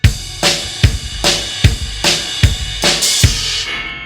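A drum kit plays a faster rock beat, right hand on the ride cymbal, kick and snare alternating quickly, punchy and close, with the cymbals fading at the end.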